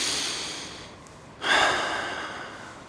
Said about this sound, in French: respirer